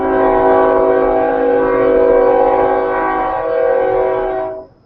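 A train horn blasts continuously from a passing train about half a mile away, a loud sustained multi-tone chord holding steady for several seconds before cutting off abruptly, with no voices over it.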